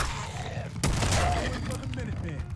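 Gunfire in Fallout 4 erupts with a sudden loud burst about a second in, followed by sustained, dense shooting and booming impacts, with a voice speaking over the game audio.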